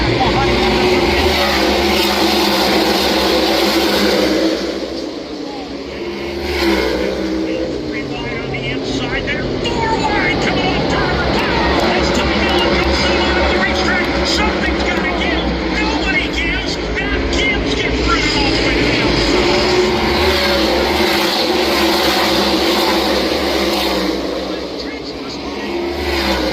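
NASCAR stock cars racing at the All-Star race, a loud continuous engine roar with passing surges and dips around the five-second and twenty-five-second marks, under a commentator's voice.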